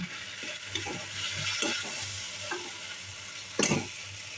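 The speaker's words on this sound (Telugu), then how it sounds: "బాగా వేయించుకోండి ఇలా బాగా వేయించుకున్న వాటిని ఒక ప్లేట్లోకి తీసుకుందాం" Onions and tomatoes fry in a pan for an egg curry, giving a faint, steady sizzle broken by soft scraping stir strokes at uneven intervals, with a sharper clatter near the end.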